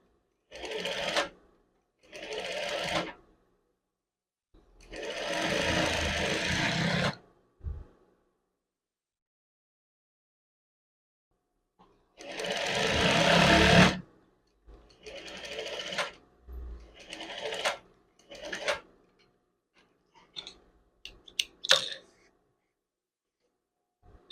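Sewing machine stitching the collar of a chef jacket, several bursts of fast motor whirring separated by pauses, loudest in a long run midway, with a few softer short runs near the end.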